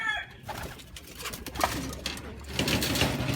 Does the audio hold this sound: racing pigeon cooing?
yes